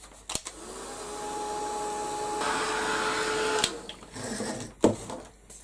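A hair dryer drying a mixed media steampunk project hums steadily for about three seconds at moderate loudness, its airflow brightening midway before it cuts off, followed by a few handling clicks.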